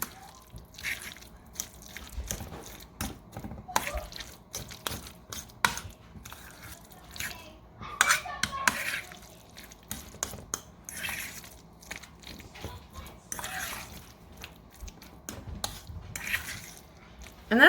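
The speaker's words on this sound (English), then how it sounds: "So we're going to mix this really well. Make sure that we get all our spices throughout." Guacamole being stirred with spices in a bowl, giving soft wet squishing and scraping with light clinks of a utensil against the bowl, steady and close, with no talking.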